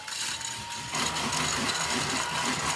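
A small Tihu desk vacuum runs steadily, sucking up loose embossing powder from a craft table, its broadband motor whir close and continuous with a slight rise in intensity partway through.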